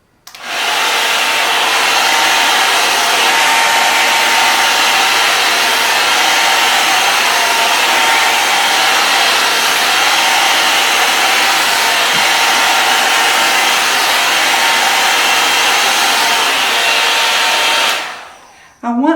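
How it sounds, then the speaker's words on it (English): An Envy 3-in-1 Airstyler with its round brush attachment, set to high airflow and high heat, blows over a synthetic wig. It makes a loud, steady rushing hiss for about eighteen seconds, then cuts off abruptly near the end. "Using your round brush attachment, you want to turn the airflow on high, the heat on high, and move in a downward direction until you get that desired look."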